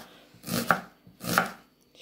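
A knife chops red onion on a cutting board for an oriental salad, two firm, close cuts about three-quarters of a second apart, with no voices.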